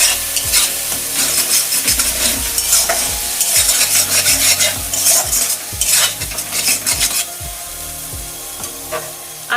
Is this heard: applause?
no